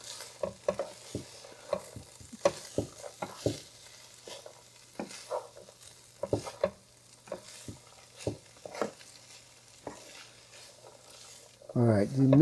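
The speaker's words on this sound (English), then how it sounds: "Now we add all this and mix them together" A spoon scrapes and knocks through Gheimeh ingredients being mixed with meat in a pot, giving a series of separate stirring strokes over quiet gaps, then a louder burst of sizzle and clatter at the end.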